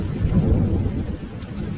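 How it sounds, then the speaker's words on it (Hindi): Heavy rain pours steadily outdoors at night while low thunder rumbles beneath it, a loud, continuous wash with no voices. "तभी बाहर तेज से बारिश होने लगती है।"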